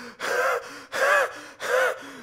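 Heavy panting breaths from an exhausted runner, three long rasping inhale-exhale cycles in a steady rhythm, close and fairly loud with no other sound around them.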